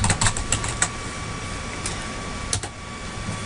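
Fast typing on a computer keyboard while filling in business card details in Outlook, a few quick clustered clicks over a steady hum of background noise, with no voices.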